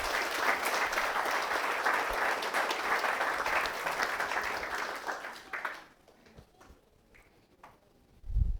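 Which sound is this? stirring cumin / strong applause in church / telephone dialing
strong applause in church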